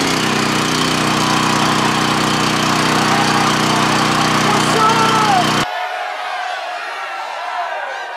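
A gas engine with its choke set on runs with a loud, steady roar, then cuts abruptly to a much quieter, thinner sound; a voice may be talking faintly.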